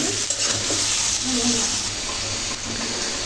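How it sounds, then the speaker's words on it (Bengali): New potatoes and winter vegetables frying in a pan, a loud continuous sizzle with stirring noises close by and a brief voice underneath. "আলু সবজিগুলো এই কারণে ভেজে দিচ্ছি"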